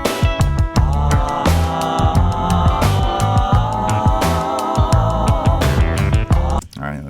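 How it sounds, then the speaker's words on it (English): A 1970s-style funk track with a Moog synthesizer, loud and dense, with punchy rhythmic bass and drum hits under sustained synth and keyboard parts, playing continuously before stopping abruptly near the end. "that's my little Moog synthesizer in there"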